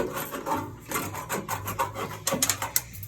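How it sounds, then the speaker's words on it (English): The freshly cut edge of an aluminum downpipe being cleaned up, heard as a quick series of close, scratchy rasping strokes over about three seconds. "I'm going to clean up this edge I just cut."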